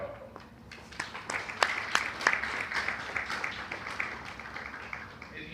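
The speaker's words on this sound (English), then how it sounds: "So I think you need to give yourself a round of applause" An audience at a talk gives a round of applause, a soft patter of many hands that swells and fades, with faint voices underneath.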